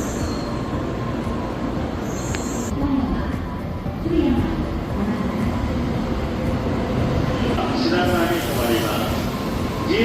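Inside a Japanese bullet train running from Tokyo to Kyoto, a steady low rumble of wheels and cabin hum continues throughout with faint squeals, and soft voices come and go.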